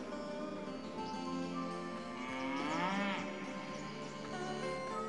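Cattle lowing in a drawn-out, rising-and-falling moo around the middle, loud and close over a steady farmyard background, with no talk.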